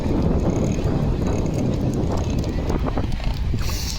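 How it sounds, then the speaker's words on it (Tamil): Steady broadband wind at a beach buffets the microphone throughout, loud and continuous with rumbling gusts and a brief hiss near the end. "மேலே வீசுதே அதுதான் பீச்சு காற்று"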